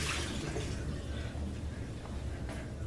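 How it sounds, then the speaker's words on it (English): Water pours steadily into a pitcher to top off a gallon of homemade iced tea, a continuous close splashing fill lasting a few seconds with no voices. "my water to top this all off, all the way to the top as far as I can without, you know, having it spilling everywhere"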